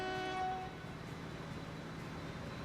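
A small train in the video game Transport Fever sounds a brief horn, then rumbles along steadily with faint rolling noise and no talk.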